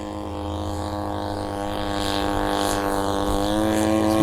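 A Seagull Models Shock Cub RC plane makes a half-throttle pass, its propeller and motor giving a smooth, even drone that grows slightly louder as it approaches.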